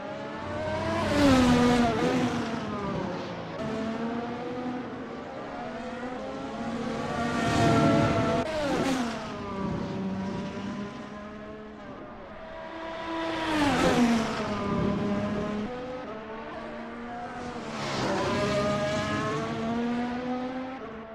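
Race car engines drone around the Nürburgring circuit, rising and falling in long sweeping waves as cars pass near and fade away, several passes in succession with layered whining tones and no voices.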